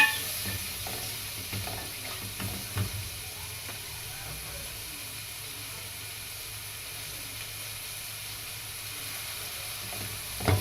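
Food being sautéed in a pan before rice goes in, a soft steady sizzle throughout with a few faint stirring knocks, fairly quiet and without talk.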